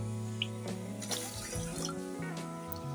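Water runs and splashes into a deep cooking pot holding a cup of sugar for gulab jamun syrup, a steady close pour with a few drips, no talking.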